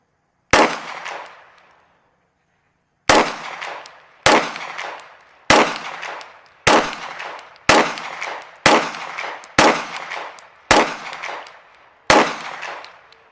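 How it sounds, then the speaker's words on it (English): Ten pistol shots from a PDP Pro slide mounted on a PPQM2 frame, loud and sharp with ringing tails: one shot, a pause, then nine in a steady, fairly quick rhythm. "We're going to make sure all 10 rounds fire and that the slide locks back on the mag."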